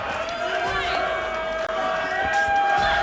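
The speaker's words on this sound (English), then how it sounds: "the crowd is really getting hype out there" Crowd roaring and cheering at a 2XKO fighting game tournament team battle, a dense continuous swell heard at a distance, with an excited commentator voice and game sounds layered over it.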